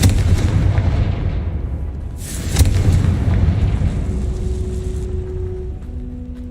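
Confringo spell blast in the video game Hogwarts Legacy: a loud, rumbling explosion with a sharp crack near the middle, deep booming debris that slowly settles, and a faint tonal hum at the end.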